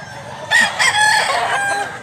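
A McLean Hatch rooster lets out a single loud, close crow lasting over a second, rising and falling in pitch against a quiet background.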